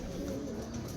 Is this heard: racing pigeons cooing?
yes